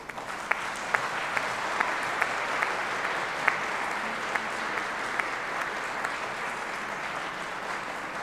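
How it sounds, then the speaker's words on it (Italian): Steady applause from a seated audience at a basketball book presentation in honour of Dan Peterson, a dense sustained patter with a few sharper individual claps standing out, continuing evenly throughout. "Il primo applauso va a Dan Peterson per essere qua con noi"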